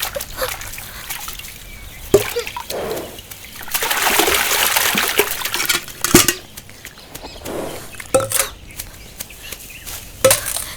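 Water is drawn from an outdoor source into a bucket, with loud splashing, sloshing and trickling that rise and fall, broken by sharp knocks of the bucket.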